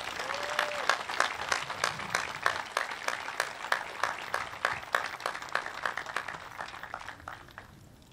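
A graduation ceremony crowd claps for student speakers, the valedictorian and the salutatorian: sparse, distinct hand claps with a few loud nearby ones, keeping an uneven rhythm and thinning out toward the end.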